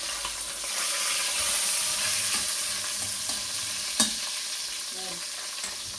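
Pork loin browning in a cazuela gives a steady, close sizzle and crackle of hot oil throughout, with a light clink of a utensil partway through.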